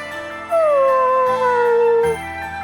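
A dog howls in the Bravely Default 2 video game, a loud drawn-out wavering howl rising and falling over game music with chimes.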